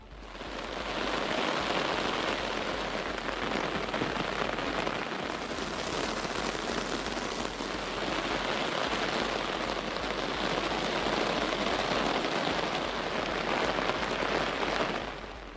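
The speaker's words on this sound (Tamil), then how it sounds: "1 மணி நேரத்திற்கு மேலாக கனமழை கொட்டியது" Heavy rain pours in Dharmapuri district in Tamil Nadu, a dense continuous hiss of drops hitting surfaces that stays loud and steady for the whole stretch, with no voices.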